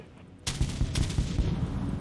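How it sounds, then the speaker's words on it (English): Flak cannons firing in Dreadnought, a sudden barrage of rapid, heavy booming shots that keeps going loud and dense in the mid-distance. "Oh no, not the flak cannons."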